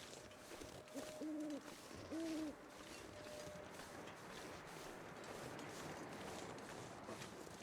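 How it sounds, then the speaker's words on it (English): Two owl hoots sound in the snowy wilderness of The Long Dark, a pair of soft, mid-distance calls near the start over a steady wind-like background hiss, followed by quiet ambience. "You can hear the owls."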